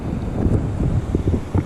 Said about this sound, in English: it's getting a little windy now.